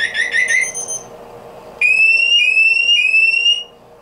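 A Scorpio I600i motorcycle alarm blares loud, close electronic tones: a quick warbling chirp sequence, a brief pause, then three sustained rising siren sweeps before cutting off.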